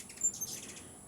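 Hummingbirds giving a few short, high, thin chirps outdoors, close but faint, with brief wing buzz between calls and no talking.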